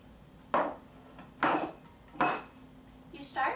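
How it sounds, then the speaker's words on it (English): A spoon clinks against a bowl while sugar, half a teaspoon of cinnamon and a nut mixture are stirred together, giving four separate scraping knocks spaced about a second apart, close and fairly clear. "Stir these ingredients."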